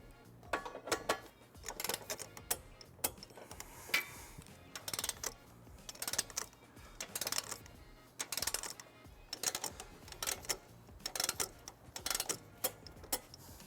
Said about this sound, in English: Now we're going to tighten and torque all of our bolts to the manufacturer's specifications